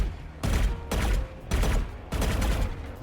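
Rapid bursts of gunfire in a video game, four loud volleys fired in quick succession with only short pauses between them, no talking.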